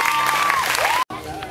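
An audience at a hypnosis stage show in a Mediterranean holiday village applauding, a dense burst of clapping with a tone sweeping through it, cut off sharply near the end.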